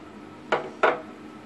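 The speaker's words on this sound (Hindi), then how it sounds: "तो अब मैं इसमें बादाम शामिल कर दूँगी" Almonds go into thickened milk in a pot for homemade rasmalai, with two sharp metallic clinks of a utensil against the pot in quick succession over a quiet kitchen background.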